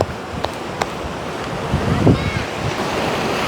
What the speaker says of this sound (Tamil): அங்கால எவ்வளோ பெரிய பரந்த ஒரு கடல் அப்பா கடவுளே